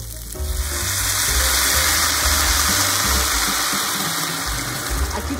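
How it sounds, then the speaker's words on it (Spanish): Water pours steadily into a pot of cooking lentils with onion and garlic, a continuous close splashing gush that runs alone for several seconds. "Le vamos a echar agua."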